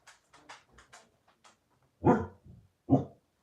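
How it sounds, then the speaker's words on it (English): A dog barks indoors at a pigeon: a few soft yips and whines, then two loud, close barks about a second apart. "Alfie, don't bark. It's just a pigeon"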